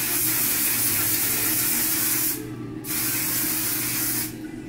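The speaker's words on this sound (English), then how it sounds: "And I'm gonna finish the whole thing with this One Size On Till Dawn Mattifying Waterproof Setting Spray. First spray roll down." One Size On Till Dawn mattifying waterproof setting spray, misted close and loud in two long hissing bursts, each followed by a short pause, with no talking.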